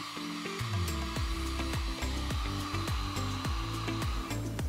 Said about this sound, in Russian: Сушим феном.